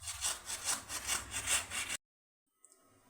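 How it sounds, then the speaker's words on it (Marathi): Raw papaya is rubbed over a medium-holed grater in about five quick rasping strokes, close and rhythmic, then the scraping stops and near silence follows with one faint touch at the end. "मध्यम अशी आकाराची आपण किसणी घ्यायची आणि त्याच्याने आपण ही पपई किसून घ्यायची आहे"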